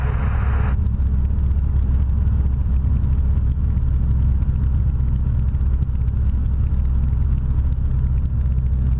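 Sling 2 light airplane engine droning steadily as the throttle is bumped up in flight, a loud continuous low rumble that stays even throughout, with a brief higher tone at the very start.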